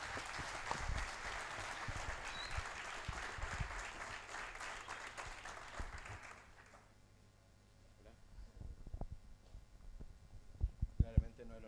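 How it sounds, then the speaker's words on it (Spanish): Audience applause for four speakers at a livestock and environment conference, a loud wash of clapping that cuts off abruptly, followed by quiet room noise and a few handling thumps. "Fuerte el aplauso para los cuatro."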